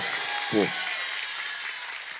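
An audience at an Islamic religious lecture in Mojosari Puger applauds with a continuous, bright wash of clapping throughout, and a short voice breaks through it near the start.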